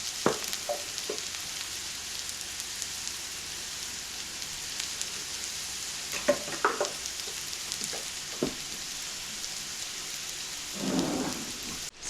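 Hash browns fry in a pan turned up to high heat, giving a steady soft sizzle broken by a few brief clatters and louder crackling bursts.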